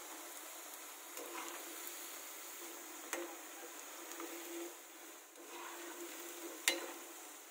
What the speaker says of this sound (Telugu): ఇవిలా ఆయిల్ లో బాగా బ్రౌనిష్ గా వచ్చేంత వరకు ఫ్రై చేసుకోవాలి.